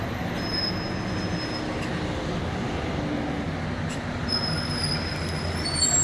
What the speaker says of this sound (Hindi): जी ये सेंट्रल स्टेशन का एक और बाहर का हिस्सा है।